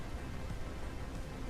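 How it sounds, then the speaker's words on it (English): Rain pouring steadily outside during a storm, a dense unbroken hiss with no pauses or voices. "it's storming outside again, so raining"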